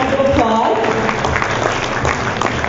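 Applause from an audience at an anniversary event, steady clapping with some voices and crowd noise mixed in throughout.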